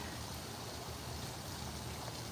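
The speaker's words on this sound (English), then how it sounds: "Captain Kirk, your favorite fountain. Look how gorge" Fountain water at Disney's Port Orleans Resort, heard as a steady, even rush of splashing and trickling that fills the whole moment with no voices.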